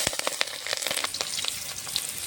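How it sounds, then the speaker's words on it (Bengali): Mustard seeds crackle and pop rapidly in hot mustard oil in a kadai, a dense, continuous sizzle heard up close with no voices. "কড়াইতে সর্ষের তেল দিয়ে দিয়েছি, ফোড়নে দেবো সর্ষে"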